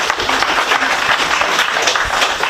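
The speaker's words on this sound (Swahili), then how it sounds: "ndaomba mjipigie makofi" An audience at a girls' high school annual general meeting claps in a burst of lively, close applause that lasts a couple of seconds.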